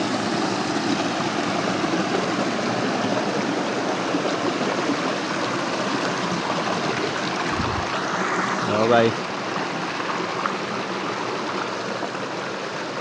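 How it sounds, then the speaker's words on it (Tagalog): Broad, steady rushing of a river stream runs throughout with a hollow wash like surf, staying loud and constant, with a brief voice and a short splash near the end. "Tingnan mo yung ilog dito"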